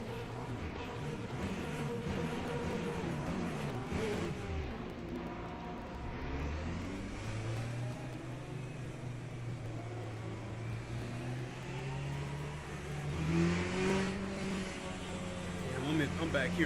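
Race car engines at Silverstone in Le Mans Ultimate drone steadily on the formation lap, a low continuous hum that rises and falls with gear changes beneath a voice talking.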